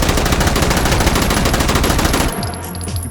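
PPSh submachine gun in the VR shooter H3VR fires one loud, rapid full-auto burst of about two seconds, then stops abruptly, leaving quieter room tone.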